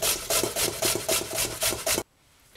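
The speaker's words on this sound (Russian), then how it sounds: "сейчас потру ее просто на терке" A thick piece of vegetable is rubbed over a hand grater in about eight regular rasping strokes, close and fairly loud, before falling silent.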